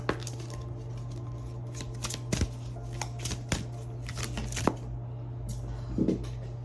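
Angel cards being shuffled and drawn, a run of soft papery riffles and crisp little snaps, with a few sharper slaps toward the end over a steady low hum; no one speaks.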